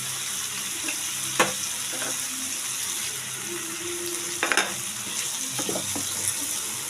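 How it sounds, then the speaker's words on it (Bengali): Spice masala with green chillies fries in a pan for a broccoli and potato dish, a steady bright sizzle under occasional spoon scrapes and knocks, with no one talking. "মশলাটা ভালো করে কষুক, আমি একটু জল ছিটা দিয়ে ঢাকা দিয়ে দেবো।"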